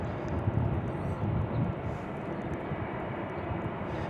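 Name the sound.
Delta Airlines Airbus A320 airplane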